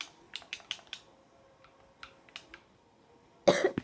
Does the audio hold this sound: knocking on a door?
no